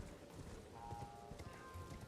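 A spectral ghost horse, the mount in the video game Elden Ring, galloping: a quick, rhythmic clip-clop of hooves with a faint whinny-like tone, fairly quiet, with a voice speaking briefly over it.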